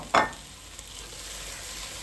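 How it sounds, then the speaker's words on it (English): Spring onion drops into a sizzling curry base in a pan with one sharp hiss, then a steady, even sizzle continues close by. "now I'm going to add the spring onion in"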